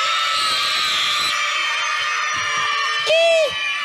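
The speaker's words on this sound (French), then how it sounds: "Mais on dit à Yopougon, vous savez crier." A children's audience on a live show in Yopougon shouts and whoops together, a high crowd roar that holds, fades, then swells into one loud sustained cry near the end.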